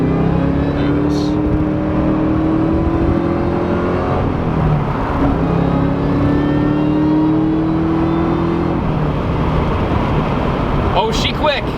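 A Terminator Cobra muscle car revs hard and spins its wheels, a loud, close, sustained engine roar with rising gear-like sweeps lasting throughout, with people talking over it.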